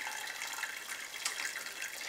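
Water pours steadily over malted grains during an all-grain pale ale homebrew rinse, a continuous close splashing hiss with no talking.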